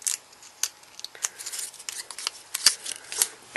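Scissors snipping through paper to cut a moustache shape, a quick series of crisp, close snips and rustles spaced irregularly, fairly quiet and heard alone.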